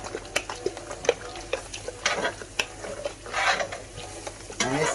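A plastic shaker bottle with a shaker ball inside is shaken in a kitchen while breakfast is prepared, giving loose rattling and sloshing knocks in uneven bursts, close and fairly loud, with no talking.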